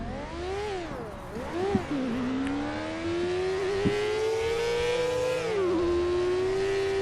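A car driven in GTA V roleplay makes a clear engine whine that revs up, dips with gear changes and climbs again steadily over several seconds, with no one speaking.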